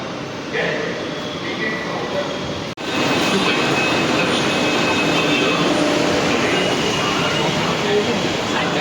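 A Mumbai metro train rumbles steadily at a station below City Sky Mall in Borivali, with a broad continuous roar broken by a brief dropout, nearby people audible under the noise.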